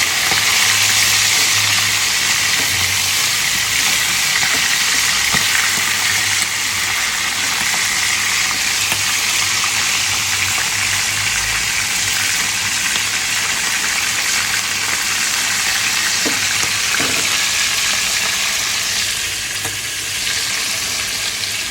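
Food frying steadily in a pan on a kitchen stove, a continuous loud sizzle with crackling spatter that holds evenly throughout, with no voices over it.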